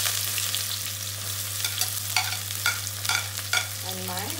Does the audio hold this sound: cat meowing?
no